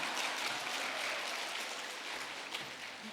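A church audience claps steadily, a soft, even patter of many hands at a moderate distance that fades a little toward the end.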